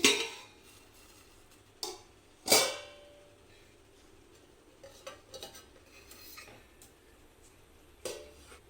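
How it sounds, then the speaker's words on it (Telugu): A pot of junnu, a milk pudding, is lifted off a stove and set down, giving a few sharp metallic clanks and scrapes separated by quiet pauses, close by with no talking. "ఇప్పుడు స్టవ్ ఆఫ్ చేసుకొని జున్ను గిన్నెను తీసి బయట పెట్టుకోవాలి"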